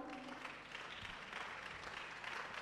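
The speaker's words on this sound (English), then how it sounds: "Those of you now clapping, you are a suspect." Audience at a talk on raising children claps in a soft, steady patter that stays faint and even for a few seconds, with no voices over it.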